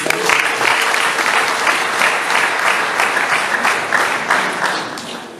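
A church congregation breaks into sustained applause during a diocesan gathering, a dense, steady wash of many hands clapping close and loud for several seconds before easing slightly at the end.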